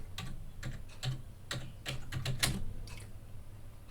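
Close, soft keystrokes on a computer keyboard as a search term is typed into a cloud console, a short irregular run of taps without any voices.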